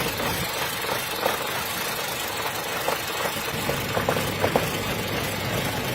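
A car engine idles roughly with a misfire, stuttering and knocking in an uneven rhythm with irregular bursts, loud and close with steady vibration and no voices.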